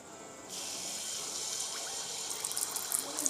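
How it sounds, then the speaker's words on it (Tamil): A ladle of appam batter hits hot oil and a bright sizzling hiss bursts up, then carries on steadily with small crackles and pops building toward the end. "அந்த உருண்டை கரண்டிக்கு ஒரு கரண்டி நீங்கள் வந்து மாவு எடுத்து எண்ணெயில் ஊற்றிடலாம்"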